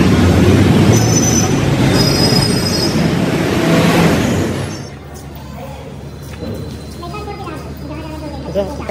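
Metal metro train wheels squeal loudly for several seconds at a metro station in Nagpur, then fade into quieter station ambience with a faint voice and rattling.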